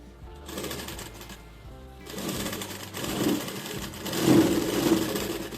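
Sewing machine stitching a seam on a three-piece princess-cut blouse, running in bursts of steady mechanical whirring that grow louder toward the end, with short pauses between runs and no talking.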